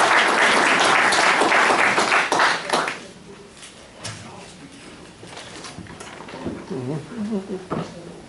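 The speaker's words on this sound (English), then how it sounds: "I want to give him a round of applause" Audience applause at a club meeting, a dense wash of many hands clapping loudly for about three seconds, then fading into scattered claps, murmuring and voices.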